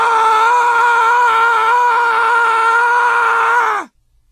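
A person imitates the George Carlin scream, letting out one long, loud, sustained yell at an amusement park that holds steady for nearly four seconds before cutting off sharply.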